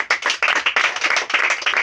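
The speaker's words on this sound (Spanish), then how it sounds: "Fuerte aplauso." Congregation at a church baptism clapping strongly, close and loud, with quick irregular bursts of hand claps throughout the short stretch.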